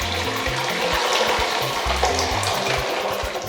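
Freshly boiled water is poured into a cooking pot of beans, a continuous splashing and gurgling pour with a low burbling churn throughout, close and moderately loud.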